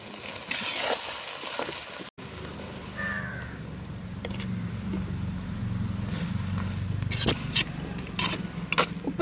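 Tender jackfruit and onions cook in a pan for chicken idichakka thoran, with a low continuous sizzle and scattered stirring clicks while a crow caws in the background near the start.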